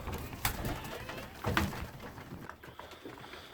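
Soft pigeon coos close by in a pigeon loft, a couple of low throaty calls with pauses between, over faint rustling background noise.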